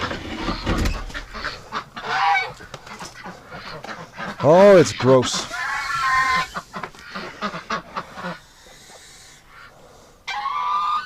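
Geese honk in a short burst of loud, rising calls amid a noisy barnyard, with duck-like quacking and a person talking nearby.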